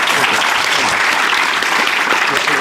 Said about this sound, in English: Another big round of applause there, please